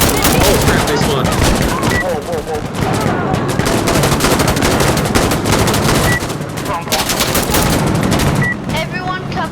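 Dense, loud gunfire and booming artillery in the combat game Insurgency Sandstorm, a nearly continuous barrage of rapid shots and blasts filling the whole stretch, with voices talking faintly underneath.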